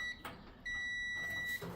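Continuity beep from a multimeter testing the thermal cutoff of a stackable Samsung dryer that is not heating: a steady high electronic tone sounds twice, a short one and then a longer held one, close and clear.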